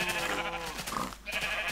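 Sheep in the Minecraft video game bleat in a couple of short wavering calls, fairly close, mixed with other game sounds and background noise.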